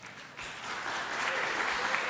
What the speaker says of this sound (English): so if you could hold your applause